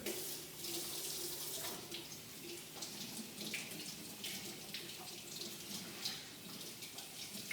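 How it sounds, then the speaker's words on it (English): Tap water runs steadily into a sink while lettuce is washed for a burger, a continuous close splashing rush with small shifts as the leaves move under the stream. "Give me a second, I'm gonna wash it."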